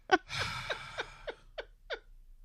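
Close, heavy breathing with a sharp gasp at the start, then a series of short rhythmic huffs that sound partly like laughter, loud and near.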